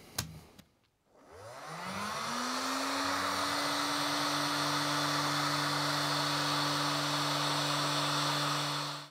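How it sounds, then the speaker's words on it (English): Heat gun running steadily at close range while Raychem SCL heat shrink tubing is recovered over a wire splice, a loud continuous blowing whir with a steady tonal hum after a brief click at startup. "So we can heat shrink that down now."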